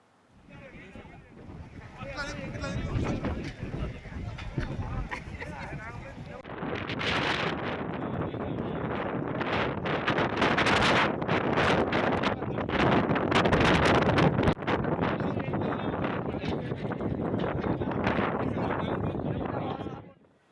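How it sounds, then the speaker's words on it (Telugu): Strong wind storm sweeping through an open-air public meeting ground in Manthani, Peddapalli district, a loud continuous roaring gust buffeting the microphone and rising stronger after the first few seconds, with voices faintly underneath. "పెద్దపల్లి జిల్లా మంథనిలో గాలి దుమారం బీభత్సాన్ని సృష్టించింది."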